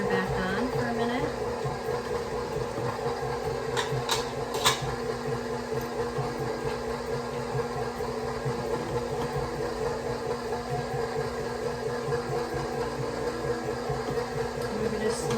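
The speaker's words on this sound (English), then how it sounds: "Turn the mixer back on for a minute." Electric mixer running steadily while mixing zucchini bread batter, a constant mechanical whir with faint rattles, close and continuous, with brief clinks around the middle.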